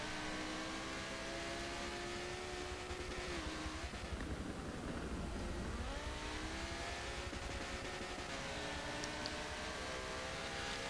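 Engine of a Lamborghini race car in a GT racing game, a loud continuous roar whose pitch climbs and drops through gear changes, with a second car's engine layered close behind.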